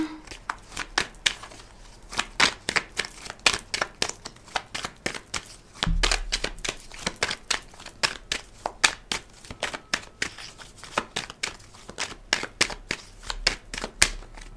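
Tarot cards are shuffled in rapid, crisp riffling bursts, close and clear, repeating steadily for the whole stretch with only a brief low thump midway.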